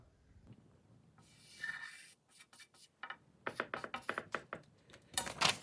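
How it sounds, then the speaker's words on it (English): Pen drawing an image on paper, close and quiet scratchy strokes in short bursts, with quicker repeated scribbles toward the end. "Draw an image on a piece of paper"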